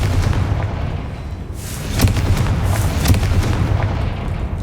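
Confringo fire blasts in Hogwarts Legacy go off as several sharp booming bursts in quick succession over a rumbling background, loud and close, with no talk.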